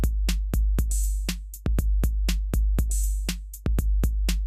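Preset beat B from the BandLab drum machine plays on its own as a brisk, looping groove of deep kicks, sharp snares and bright hi-hats, its pattern repeating with steady rhythm throughout.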